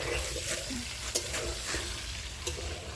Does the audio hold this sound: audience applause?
no